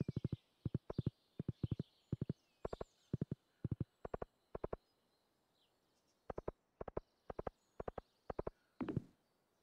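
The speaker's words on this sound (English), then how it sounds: "I'm just amazed that we can ride my horse up here." Horse hooves clip-clopping in paired, rhythmic beats in the modded video game Stardew Valley, pausing midway and then resuming, with a short rustling thump at the end.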